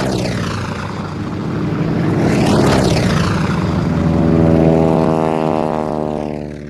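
A propeller-driven Soviet fighter aircraft of the early 1930s drones steadily and loudly, its engine pitch sweeping audibly as it passes close by, with no talking.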